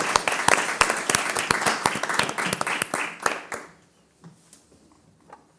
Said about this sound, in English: Can we get a big round of applause already for our audience here for participating?